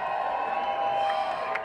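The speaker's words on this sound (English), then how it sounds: "they're all cheering in the tent behind me" A crowd cheering inside a tent at a film premiere, a steady distant wash of voices and whoops carried over a slightly tinny line, with no individual words standing out.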